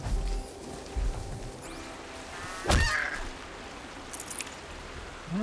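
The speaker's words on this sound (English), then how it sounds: "Definitely got a duck or a goose or something?" A goose or duck in Horizon Zero Dawn gives a single loud honking call midway, rising and sliding in pitch, set against a faint outdoor hum with a few soft thumps.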